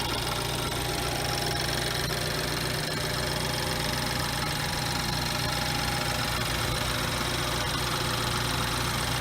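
A car engine idles steadily after a cold start, a dense continuous mid-pitched drone with faint knocking, close and loud throughout with no talk.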